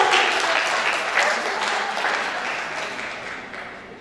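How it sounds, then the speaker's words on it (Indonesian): An audience at a talk on digital statistics gives a burst of continuous applause, full and fairly loud at first, then gradually thinning and fading toward the end. "Tepuk tangan dulu, teman-teman."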